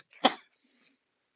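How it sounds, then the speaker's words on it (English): A single sharp sneeze, close and fairly loud, followed by a faint breath in an otherwise quiet room. "Sneezing a bit."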